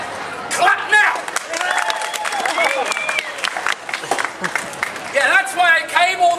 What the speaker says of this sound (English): If, quite frankly, you could not care less if I could do this or not, but you would like to see me fail,